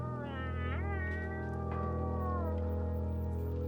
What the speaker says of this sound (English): I'm gonna be making cat sounds all night.